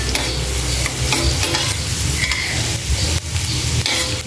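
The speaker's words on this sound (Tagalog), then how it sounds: "Lalagay na natin ang ating bawang." Garlic fries in a pan for garlic butter shrimp, a dense, close, continuous sizzle with occasional stirring scrapes.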